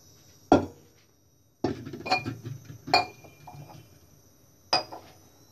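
A metal pan is set down on a kitchen stove for cooking rice, giving four or five sharp, close clanks and clinks separated by brief quiet gaps.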